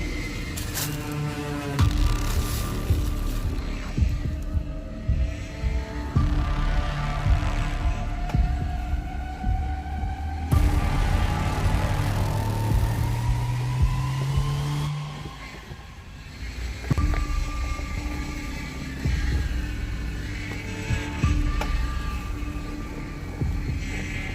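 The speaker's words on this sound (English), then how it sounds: "It's a very unhappy power steering pump right there." Power steering pump whining under strain on an off-road vehicle crawling over rock ledges and mudholes in Vinton County, Ohio, a rising and falling mechanical whine over a throbbing engine drone.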